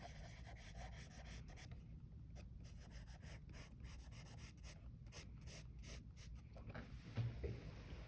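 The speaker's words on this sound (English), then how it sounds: "apply the charcoal" A charcoal pencil rubs across paper in shading strokes, a soft continuous scratchy friction with rhythmic pulses, close and quiet.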